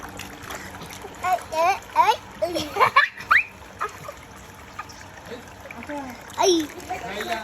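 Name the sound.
child splashing water in a bathtub catching fish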